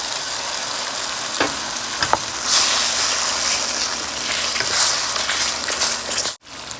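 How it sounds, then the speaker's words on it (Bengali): Spice paste fries with tomato puree for a jackfruit kofta curry, a dense close sizzle that swells louder partway through, with a few spatula knocks and stirs and no talk. "ভালো মতন টমেটো দিয়ে কষিয়ে নিয়েছি।"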